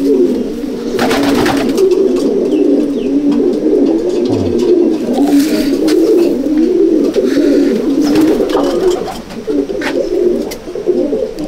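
Low, rolling coos from a flock of racing pigeons fill a pigeon loft without pause, with scattered wing flutters and scratchy rustling close at hand.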